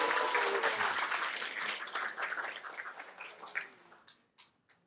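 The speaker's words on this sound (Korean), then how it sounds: "박수 한번 쳐주셔야 되는 거 아니에요?" A lecture audience applauds in a full burst that starts loud and dense, then thins and fades over several seconds to a few scattered final claps.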